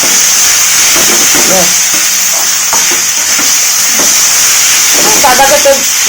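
Vegetarian chowmein, boiled beforehand and seasoned with garam masala, frying in a pan gives a loud continuous hiss and sizzle with occasional stirring scrapes, while someone talks over it.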